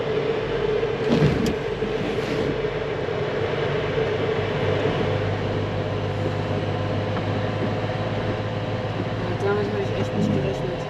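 A camper van creeps slowly along a snowy mountain road, its engine giving a steady low hum and rumble throughout, with people talking inside the cab over the drone.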